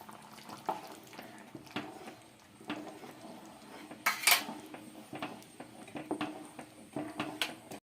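Ada pradhaman stirred with a spoonful of ghee in a pan on a Kerala stove: intermittent close clinks and scrapes of a spoon against the metal pan, with quiet pauses between the strokes.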